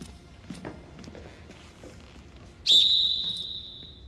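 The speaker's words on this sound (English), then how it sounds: "I am going to blow this whistle, and you are going to work your ass off!" A sharp, loud whistle blast cuts in abruptly after some quiet shuffling footsteps and held as one long, sustained shrill tone until the end, during a demanding workout or training session.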